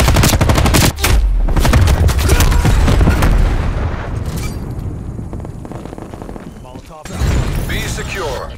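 Call of Duty: Cold War match on the Nuketown map, with a hostile flashbang bursting amid loud, rapid gunfire, dense cracking shots at first, then a quieter stretch and another sharp burst near the end.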